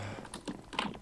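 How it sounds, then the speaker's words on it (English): Fast, clattering keystrokes on a computer keyboard hammered during a death run parkour game, a brief burst of several sharp clicks close up. "Smash the keyboard."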